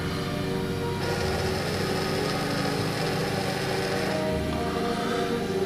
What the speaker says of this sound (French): Le moteur repart.